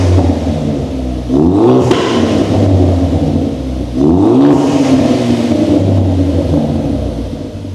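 A Ford Focus ST with a loud aftermarket exhaust idles while warming up, its deep rumbling drone swelling twice with brief revs before settling back, close and loud with no talking.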